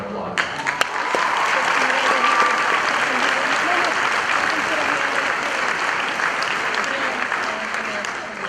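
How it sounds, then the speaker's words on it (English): Graduation audience at a winter high-school commencement gives the graduates a round of applause: steady, full-bodied clapping from a large room that fills the whole stretch without a break. "They really need a nice round of applause."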